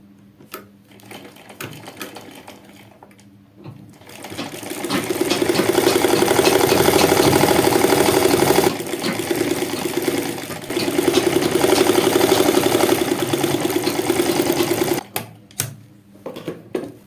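Sewing machine stitching the seam of a women's trouser, joining front and back panels, in a steady mechanical whir that runs in two long bursts with brief pauses and short clicks at start and end.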